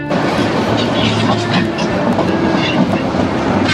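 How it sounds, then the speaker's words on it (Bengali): A passenger train departing a station rumbles along nearby, wheels clacking and the carriages rattling in a loud, continuous roll. "কমলাপুর স্টেশন থেকে রাইট টাইমে আসলে ট্রেনটা ছাড়ছে"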